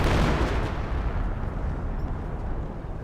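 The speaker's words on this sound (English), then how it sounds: "I do have a 20 centimeter rocket barrage running in here." A 20 cm rocket barrage pounds the ground in Company of Heroes, a heavy rumbling roll of overlapping explosions that is loudest at the start and then trails off.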